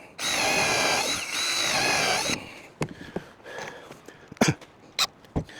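A power drill drives countersunk screws into a wooden saw horse, with a loud sustained whir lasting about two seconds, then a few short clicks and knocks of the screw seating and the tool being handled.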